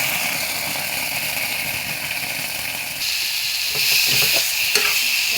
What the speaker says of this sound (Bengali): দিয়ে আমি ভালো করে কষে নেব।